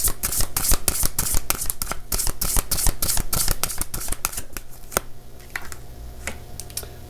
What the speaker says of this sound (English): Let's grab one more card here to wrap up this reading here.